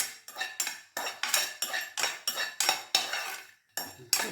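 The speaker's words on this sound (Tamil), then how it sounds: "பட்டை, கிராம்பு, ஏலக்காய், இது நல்லா வறுத்துக்கணும்" Whole cinnamon, cloves and cardamom dry roasting in a metal pan, stirred with a spoon that scrapes and clinks in a steady rhythm of about a dozen short, close strokes with one brief pause, no voices.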